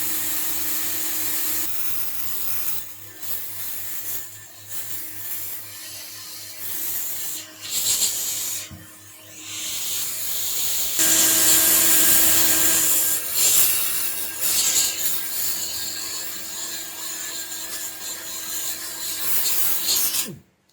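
A hot air rework tool blows steadily on an Anker power bank circuit board to free a Type-C charging connector. It makes a continuous airy hiss with occasional rubbing and scraping, fairly close, and no one talks.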